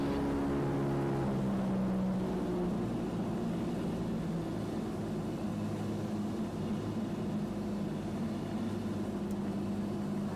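A small training airplane's engine drones steadily in flight after being throttled back, the hum dropping slightly in pitch early on and then holding a constant, close cabin-level rumble.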